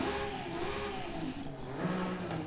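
A stock 2021 BMW M4 Competition engine in Forza Horizon 5 drones steadily throughout, a continuous mid-pitched note with shifting harmonics as revs rise and ease, fairly loud and with no talking.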